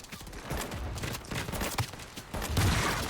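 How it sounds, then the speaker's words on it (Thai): Shotgun blasts in the online shooter game Crowz, heard as repeated sharp booms mixed into busy game noise and background clatter, with a heavier burst near the end. "แน่นอนลูกซองก็แรงอยู่แล้ว แต่ยิงไม่โดน"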